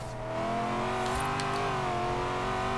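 Corvette in the racing video game Forza Horizon 3 accelerating at high speed, a steady, loud engine drone with a gradually shifting pitch, heard alone without talking.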